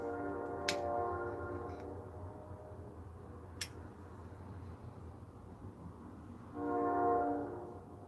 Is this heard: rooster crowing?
no